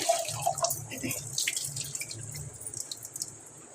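Fish eggs being rinsed in water, with soft dripping and splashing of water in a container up close, brief trickles and a faint low hum underneath.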